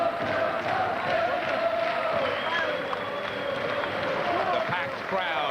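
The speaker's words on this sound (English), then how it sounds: "The packed crowd in Huddersfield. How they're enjoying this night." A packed boxing crowd in Huddersfield roars and cheers steadily throughout, a dense wash of voices with no breaks.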